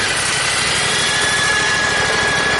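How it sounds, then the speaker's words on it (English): Small pump engine running steadily after being started with the choke out, a loud, even, high-pitched engine drone with constant vibration and no talking. "Now we'll go ahead and start the engine."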